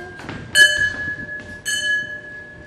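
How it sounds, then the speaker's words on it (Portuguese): The church bell of Saint Mark's rings in a stage play, two clear metallic strikes about a second apart, each with a bright ringing decay, loud and alone. "O sino de São Marcos."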